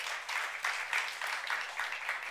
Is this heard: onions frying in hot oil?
no